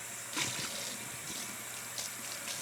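Tap water runs from a kitchen faucet while it is left to warm to lukewarm for sourdough baking, a steady faint hiss and gush with a few splashy surges and no talking.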